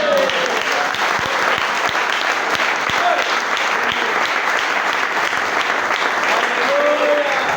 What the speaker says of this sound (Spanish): Déjenme un aplauso.